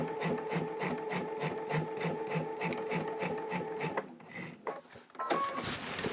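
Sewing machine with a walking foot stitching a quilt, a steady rapid rhythmic chatter running for about four seconds, then pausing with a few short bursts and handling noises before restarting.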